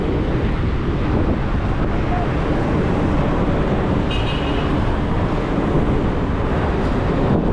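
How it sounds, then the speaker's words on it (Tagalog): Strong wind at Rizal Park in Luneta buffets the microphone in a constant loud, rumbling roar that stays unbroken throughout, with no clear voices. "Lakas ang hangin!"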